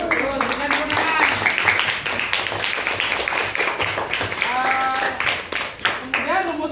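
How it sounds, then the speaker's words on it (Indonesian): Students in a classroom clap together in a scattered burst of applause, mixed with voices talking and calling out nearby. "berikan tepuk tangan"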